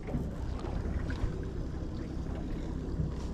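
A boat motor runs steadily while the angler holds position over a fishing spot as the tide starts to run, giving a constant low, rumbling drone that fills the whole stretch with no talking.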